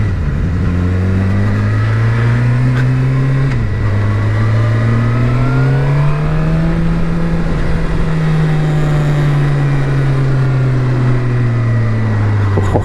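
A Suzuki GSX-R750 L0 motorcycle accelerating through the gears while being ridden, its engine note rising steadily, dipping briefly at a shift, then climbing again, loud and close the whole way with no voices.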